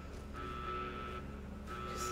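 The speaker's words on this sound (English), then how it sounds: "It's gonna be a pain in the ass listening to that alarm the whole time." A steady electronic alarm drones continuously in Fallout: New Vegas, a sustained tonal tone looping at moderate volume throughout with no speech over it.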